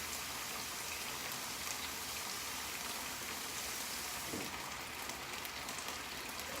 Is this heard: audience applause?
no